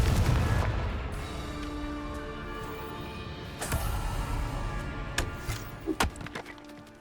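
Confringo fire spell from Hogwarts Legacy bursting in a loud, rumbling blast that fades, followed by a series of sharp cracks and booms near the end.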